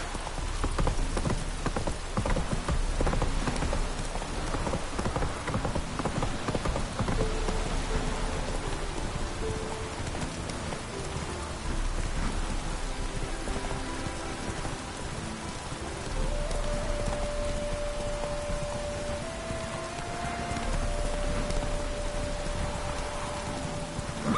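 Steady rain falling in The Witcher 3 game world, a continuous hiss of drops with hoofbeat-like clip-clops early on, faint music tones later and no talk.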